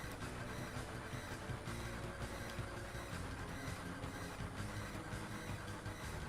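Steady rumbling train ambience from a moving train in Final Fantasy 7, a continuous loud mechanical drone with faint rhythmic clatter, no voices.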